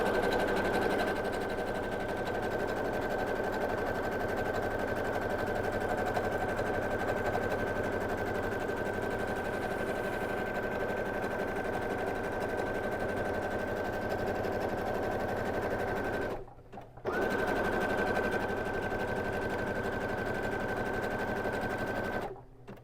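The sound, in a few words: sewing machine stitching a zigzag at increased speed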